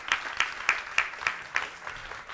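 A few people clap in a slow, evenly spaced rhythm at a school board meeting honoring student athletes and coaches, with about seven distinct claps that are fairly faint and fade toward the end.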